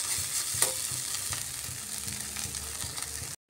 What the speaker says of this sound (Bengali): এইভাবে এটাকে একটু ভাজা ভাজা করে নিচ্ছি।